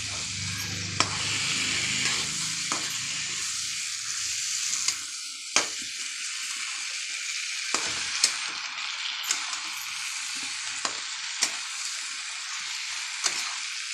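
Peas and potatoes fry in a pan, a steady hiss of sizzling running throughout with a spatula scraping and clacking against the pan at irregular intervals, close and fairly loud.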